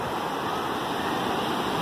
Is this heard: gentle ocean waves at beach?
yes